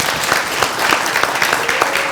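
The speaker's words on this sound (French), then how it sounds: "Je voudrais qu'on applaudisse ces deux demoiselles." An audience in a hall applauds two young women, steady dense clapping filling the room from start to finish with no voices over it.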